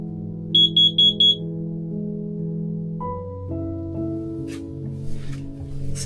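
Battery-powered smoke alarm aboard a boat, just fitted with fresh batteries and tested: four sharp, loud piercing beeps in quick succession over a droning instrumental background, then quieter handling noises.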